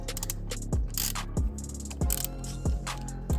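Ratchet fitted with a quarter-inch socket and extension loosening a steering wheel bolt on a Toyota Land Cruiser FZJ80, a close, steady series of four or five sharp clicking strokes in even rhythm, no voices.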